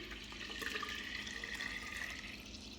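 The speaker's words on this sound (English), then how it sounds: "I'm gonna take my cooled sweet tea, and I am going to pour it into this gallon glass container" Cooled sweet tea pours into a gallon glass container, a soft continuous stream of liquid with a faint rising ring as the vessel fills, quiet and steady throughout with no talking.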